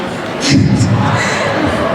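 A school assembly audience imitates a tiger roar together, a loud swelling crowd shout that rises and then sustains with cheering-like texture before easing.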